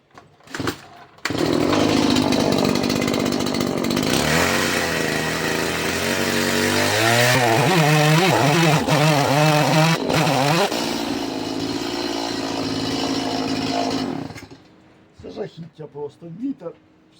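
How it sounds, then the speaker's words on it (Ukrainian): A loud chainsaw roars continuously, its pitch rising and falling as it bites into wood, then cuts off, leaving brief scattered sounds at the end. "Трошки обріжу цю сторону, потім подивлюся, ту або підстругаю іншу сторону, або теж підріжу бензопилкою."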